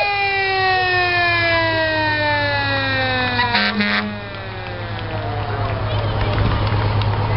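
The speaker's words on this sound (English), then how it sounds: "And now we have an old engine from the Bodega Volunteer Fire Department, number eight seventy-two from 1982." Siren of a 1982 Bodega Volunteer Fire Department engine, number 872, at a town event, wailing loudly and steadily with falling and rising sweeps, close by over a low engine rumble and crowd noise.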